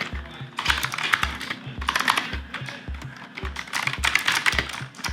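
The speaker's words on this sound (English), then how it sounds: "So like typing on it though" Fast typing on a Razer Huntsman keyboard, a close, crisp run of keystrokes with a few pauses between bursts and no talking.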